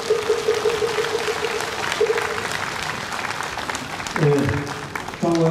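Audience applause fills a Buddhist ceremony hall at the inauguration service for Ven. Wonhaeng as head of the administrative headquarters, a steady broad clapping with voices speaking over it near the end.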